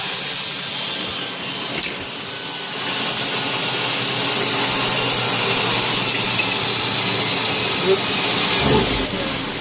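A grinder cuts grind marks across a metal surface, a loud, close, continuous abrasive whir that holds steady for the whole stretch.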